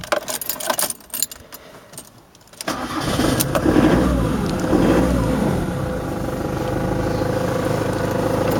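Keys jangle, then a Ford Transit van's 2-litre engine, at 95,000 miles, cranks and catches, settling into a steady close-up idle that carries on to the end.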